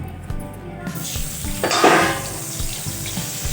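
Chopped onion hits hot oil with bay leaf in the pan, a close burst of sizzling that swells briefly and then settles into steady frying with some clatter.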